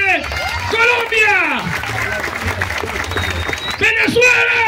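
A crowd at a Colombia versus Venezuela street dance duel claps and cheers for the Colombian dancer, with loud shouts and whoops on top of dense, close crowd noise.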